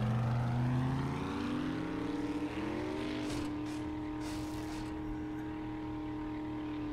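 Engine of a vehicle reversing in 7 Days to Die, a steady droning hum with rising tonal whine, close and continuous, with no talking.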